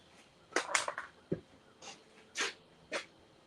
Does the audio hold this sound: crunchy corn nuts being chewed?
no